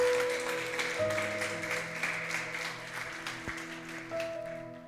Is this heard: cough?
no